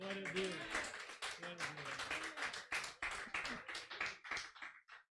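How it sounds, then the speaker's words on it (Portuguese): Congregation clapping at a church worship service welcoming a bishop, a busy patter of hands running throughout while voices talk and call out over it, fading toward the end. "Então dá um aplauso ao Senhor"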